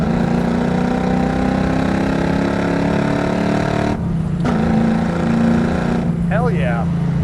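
A 1979 Pontiac Trans Am with its original 400 V8 and four-speed rumbles loudly and steadily from inside the moving car, holding a low throbbing drone that dips briefly and swells again as it is wound up.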